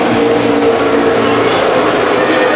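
Loud, continuous roar of NASCAR race car engines revving and passing close by at the 2011 Good Sam Club 500 at Talladega, a dense wall of motor noise throughout.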